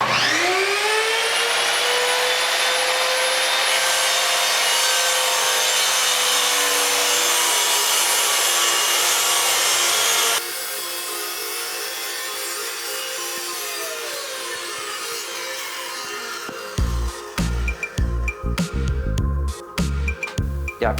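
An 8-1/4 inch 1400W miter saw spins up with a rising whine, then bites through a piece of wood at a 90-degree cut, loud and close, winding down into knocks and clatter at the end.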